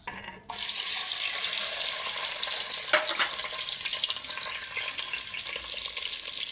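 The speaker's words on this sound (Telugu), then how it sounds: "నూనెలో పసుపు వేసుకొని గుడ్లు అయితే వేపుకుందాం మనం" Eggs hit hot oil seasoned with turmeric and start frying with a sudden loud hiss, which settles into a steady, bright sizzle. A faint clink sounds partway through, and no one speaks.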